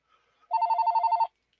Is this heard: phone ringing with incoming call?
yes